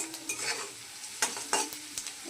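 Onion frying in a pan for a spicy semolina dish, sizzling steadily while a spoon scrapes and stirs in several sharp bursts, close and moderately loud with no talk.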